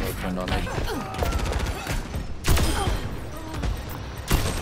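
Widowmaker sniper rifle shots in Overwatch, with sharp gunfire cracks near 2.5 and 4.3 seconds standing out over dense game effects and background noise, while players talk over the action.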